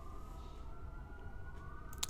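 An emergency vehicle siren wails faintly in the distance outside, a thin steady tone that slowly rises and falls under a low background rumble, ending with a brief click.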